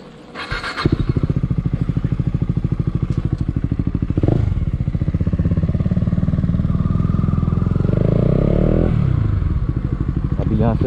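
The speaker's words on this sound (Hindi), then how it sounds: "यहाँ से एक बार भगा के देखते हैं बाइक को लॉन्च करके।" A KTM Duke 250 motorcycle launches on a cold early-morning road near Haflong. The engine note climbs loud and close as it accelerates through a gear change, then keeps pulling hard.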